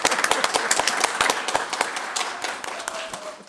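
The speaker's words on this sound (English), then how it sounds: "I just wanted to give a quick round of applause to Abhishek" A quick round of applause at a transit agency board meeting, a small group clapping in a brisk, uneven burst of sharp claps that thins out and fades toward the end, close and clear.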